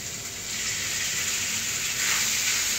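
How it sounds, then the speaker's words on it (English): Strips of round steak hit a preheated wok for a stir fry, giving a steady, bright, loud sizzling hiss that holds without pause and swells slightly toward the end. "But as you can tell, the sizzle starts right off the jump."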